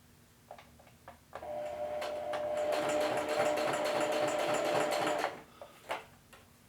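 A sewing machine runs a zigzag stitch on cut-off pant legs, a fast steady mechanical whir with rapid ticking needle strokes for several seconds, then stops with a few clicks.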